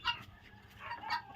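Turkey hen clucking on a village farm, a few short clucks near the start and again toward the end, close and moderately loud over faint background noise.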